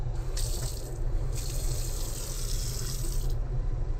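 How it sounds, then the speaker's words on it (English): Water runs steadily from a tap aboard a narrowboat, a continuous hissing splash with a low hum underneath. "So we have running water"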